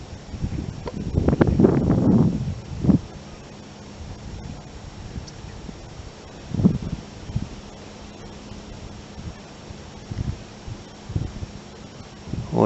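On a windy morning outdoors, gusts buffet the camera microphone in low, muffled thumps, strongest early on and then returning in scattered bursts over a quieter background.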